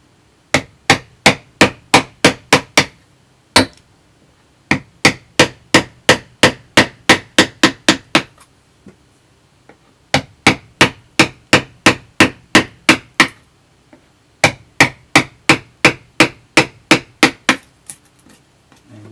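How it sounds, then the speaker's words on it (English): Wooden hammering on a woodblock print carving, sharp knocks in fast bursts of about eight to ten strikes, with short pauses between groups, close and loud with no talk. "Watch a wood carver's stream, and that's what you're going to get, is wood hammering"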